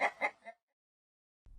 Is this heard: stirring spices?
no